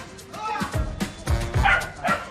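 A dog chasing monkeys near the Ganges in India gives several sharp, close barks in quick bursts, with a person's voice exclaiming in between.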